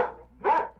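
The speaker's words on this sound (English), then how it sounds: "Teams of Swiss search dogs continue combing through the debris" A single short bark from a Swiss search dog working through earthquake rubble in Kobe, fairly loud and close, preceded by a softer whine-like sound, with no voices.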